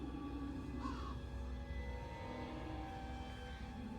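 Crows caw faintly in the distance within the horror video game Tiny Bunny, a couple of brief calls over a low ambient drone.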